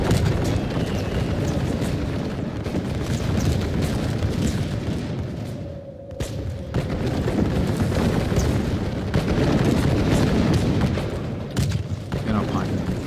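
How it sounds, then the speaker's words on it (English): Dragoons on the walls open musket fire in a Thirty Years' War strategy game, heard as dense, rumbling battle bursts and booms throughout, with a narrator talking over them. "we have some dragoons on the walls that have opened fire"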